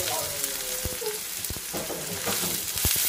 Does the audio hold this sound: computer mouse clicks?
no